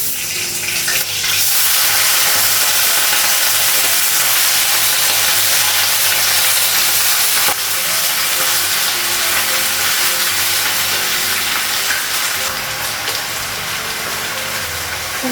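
Cumin seeds, black cumin and green chillies fry in oil in a wok, making a loud, close, unbroken sizzle that crackles evenly for about fifteen seconds with faint stirring and no talk.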